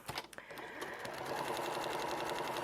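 A sewing machine stitching quilt rows together runs in a steady, fast, close mechanical whir after a few brief clicks at the start, with no speech.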